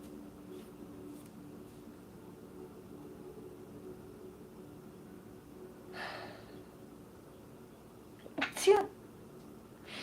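Near the end, an indoor tarot reading's steady hum is broken by a woman's single sharp sneeze, preceded by a quick breathy intake, with another short burst a couple of seconds earlier.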